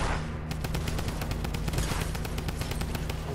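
Drum gun firing in a video game, a rapid continuous burst of automatic gunfire with fast evenly spaced shots, sustained and fairly loud for the whole stretch.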